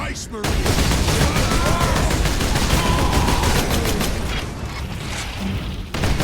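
Projectile gunfire in Warhammer 40K Space Marine: a dense, unbroken barrage of rapid shots and blasts at high volume, with a brief drop at the start and end.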